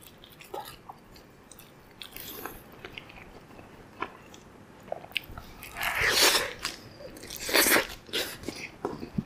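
Close crunchy bites and chewing of a crispy bean and cheese burrito, with several sharp crunches and louder bursts of mastication in the later half, no talking.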